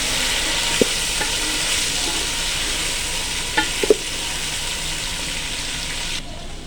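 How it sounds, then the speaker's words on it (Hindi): Chicken browning in a pot for yakhni pulao gives off a dense, steady sizzle, with a few sharp clinks of a spoon against the metal before it cuts off abruptly; no speech. "चिकन डालने के बाद 2 मिनट हुए हैं इसको भूनते हुए।"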